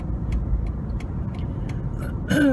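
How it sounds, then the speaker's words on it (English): Road traffic rolling by in a steady low rumble with light ticking clicks, ending in a brief rising whine from a passing vehicle. "there's like some kind of traffic going on"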